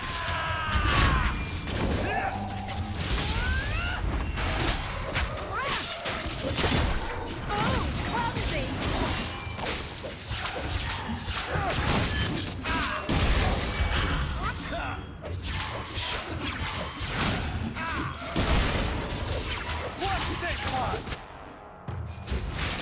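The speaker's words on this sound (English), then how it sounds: "Who got in the way of my fireball?" Repeated fireball spell explosions and combat crashes in the Dragon Age II docks battle, loud and dense throughout with booming bursts and whooshes, while speech runs underneath.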